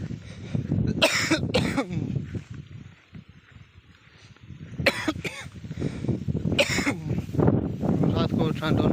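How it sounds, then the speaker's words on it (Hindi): Several harsh coughs in a village setting on a cold, windy night, bursting out in clusters near the start and again midway, close and loud over steady wind noise and some talking. "रात को ठंड होने की वजह से खांसी भी बहुत हो गई है"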